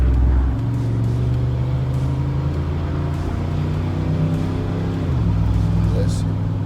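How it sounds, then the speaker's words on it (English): A lowered Mazda RX-8 on wide wheels with flared fenders and a V8 swap runs nearby with a deep, steady engine rumble that briefly shifts in pitch, while voices talk over it. "It's a RX-8, lowered wide wheels. Looks like he has his fenders flared out. Sounds V8 swap."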